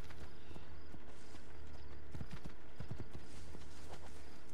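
Horse hooves clip-clopping in the video game Assassin's Creed 2, a few close hoof strikes in a short irregular burst over steady low background noise.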